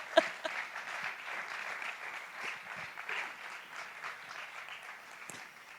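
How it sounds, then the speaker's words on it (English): Applause at a Booked Naples 2022 event, a soft, fairly distant patter of clapping from a gathered audience that slowly thins and fades over several seconds. "Let's just have a rousing applause for each other"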